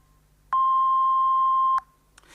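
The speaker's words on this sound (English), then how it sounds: "speak when you hear the beep" A single steady electronic beep sounds for just over a second, clean and mid-pitched, followed by quiet line noise.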